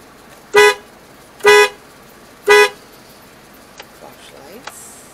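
Car horn honked three times in a steady rhythm, each blast short, loud and close, followed by a few faint clicks and knocks in an otherwise quiet setting.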